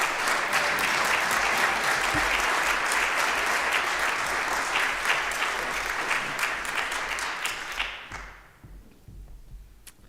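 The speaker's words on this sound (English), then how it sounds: "I think we need to clap for the students" Church congregation applauding students during a Sunday worship service, a dense, steady clapping that holds for several seconds before fading out.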